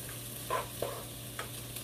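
Meat fries in a pan for a Peruvian lentil stew, giving a steady close sizzle broken by a few short spatula scrapes and clicks, with no talking.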